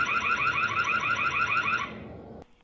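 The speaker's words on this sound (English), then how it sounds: "You can also activate the alarm with the little alarm button here that looks like a little bell." A Soliom SP10 security camera sounds its alarm, a loud warbling siren that pulses rapidly for about two seconds and then cuts off abruptly.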